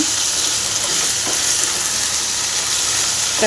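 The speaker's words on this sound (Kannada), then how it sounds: "ನೀಟಾಗಿ ಫ್ರೈ ಆಗಬೇಕಿದು ಆಯಿಲಲ್ಲಿ" Potatoes fry in oil with a loud, steady, dense sizzle and crackle that holds evenly throughout, heard close up with no talking.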